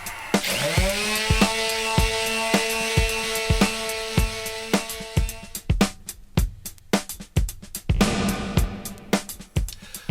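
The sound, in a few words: sanding a drum shell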